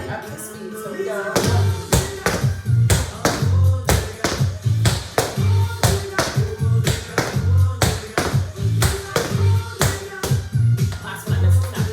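Tap shoes beat out a three-sound riff walk at full tempo, with crisp, close, evenly spaced clusters of taps and heel thuds repeating in a steady rhythm with no talking.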